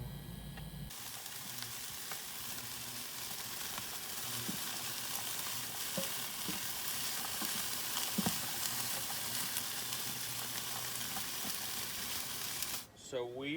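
Chicken searing in a pan over high heat, a steady loud sizzle and crackle running unbroken from start to finish, with occasional small pops.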